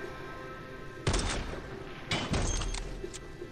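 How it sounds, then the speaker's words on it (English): Headshot sound effect from a sniper shot in video game gameplay, with a gliding hit: a sharp broadband crack around one second in, then a second burst of impacts near two seconds, loud over a steady game background hum. "Hear that noise, right? That's a headshot noise."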